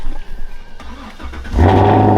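A Chevrolet Camaro engine cranks briefly, then catches and roars to life with a loud, deep rumble that settles into a strong idle.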